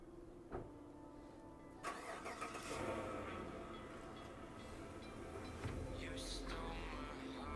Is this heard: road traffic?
yes